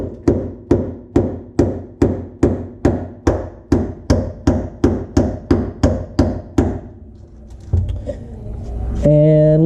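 Around fourteen evenly spaced, ringing hammer taps sound close and loud as a part is seated during a Toyota 2JZ engine swap into a BMW E30. The taps stop, followed by quieter shuffling and a brief high-pitched squeal near the end.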